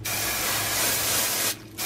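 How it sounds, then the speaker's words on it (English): A steady aerosol hiss of cooking spray into a crock pot sprays for over a second, breaks briefly, then resumes, close and continuous. "I'm going to spray my pan."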